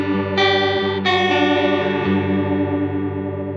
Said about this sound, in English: that out of tune warble we hear